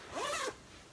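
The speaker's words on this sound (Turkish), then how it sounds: "Fermuarını kapattık." The zipper of an organizer bag is pulled closed in one quick, close rasping zip lasting about a third of a second, followed by quiet.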